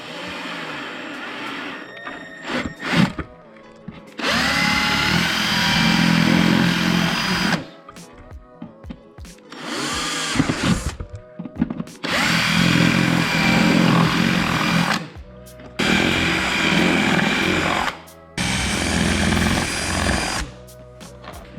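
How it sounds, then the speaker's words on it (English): A drill bores out small dimples in a hard-coated plastic windshield for a Can-Am Maverick X3, giving several loud sustained whirring bursts of a few seconds each with short pauses and handling clatter between them. "Drill out these little dimples, 7mm drill bit or 9/32"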